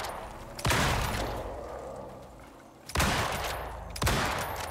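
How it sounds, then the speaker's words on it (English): Gunfire in the co-op survival video game Icarus: three loud, booming bursts spaced a couple of seconds apart, each decaying into a rumbling echo, with no talking. "I just hear rhythmic gunfire in the back."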